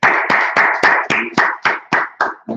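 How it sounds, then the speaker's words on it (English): A congregation at a Sabbath service claps in unison, about nine sharp, evenly spaced hand claps in a steady rhythm, loud and close with no talking. "Let's clap it up."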